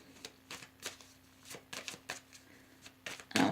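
Tarot cards are shuffled by hand, giving a series of quick, crisp riffling bursts at irregular intervals, close and fairly quiet, with a low steady hum underneath.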